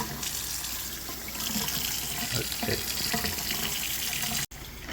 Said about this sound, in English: Gonna use both sinks to wash and rinse my greens.